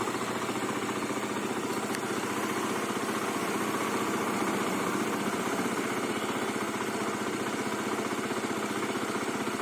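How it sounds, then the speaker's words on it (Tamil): A motorcycle engine idles steadily nearby, a fast, even low-pitched chugging with a faint mechanical rattle, constant in level and with no one talking. "பாருங்க பைக்கோட சவுண்ட் பாருங்க"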